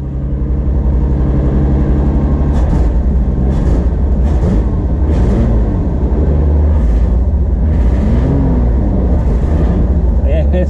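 Toyota Supra engine idling roughly with a misfire, a steady low rumble with irregular stumbles and uneven pulses, heard up close and loud throughout.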